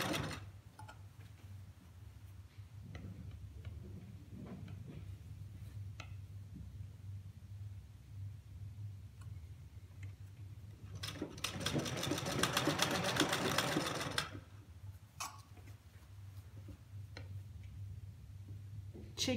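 Domestic sewing machine stitching along the edge of a pajama collar, a steady low motor hum with a quick mechanical needle tick, then a louder, faster run of stitching for about three seconds before dropping back.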